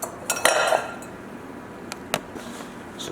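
Two bowls set out on a kitchen counter, heard as a couple of close clinks and knocks of dishware followed by a few lighter taps.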